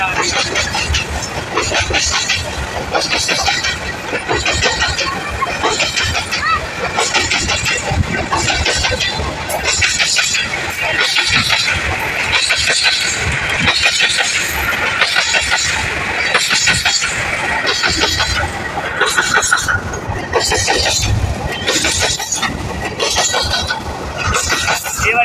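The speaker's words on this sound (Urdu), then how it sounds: "ٹرین مسافر ٹرین جو کہ ابھی گزرے گی میرے پیچھے سے" A passenger train passing by close, a loud continuous rumbling roar with rhythmic clacking of wheels that stays steady throughout, with someone talking over it.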